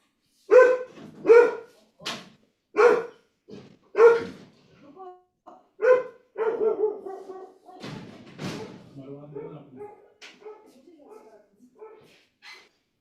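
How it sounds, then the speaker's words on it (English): A dog barks in a series of sharp, separate woofs, then shifts to softer whimpers and whines, close by and loud, with a few thuds mixed in. "I have to let out the dog."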